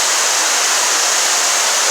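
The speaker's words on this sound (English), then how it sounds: "Here's the Maryland waterfall." Steady, loud rushing roar of a Maryland waterfall, a dense unbroken wash of falling water with no voices, filling the whole span evenly.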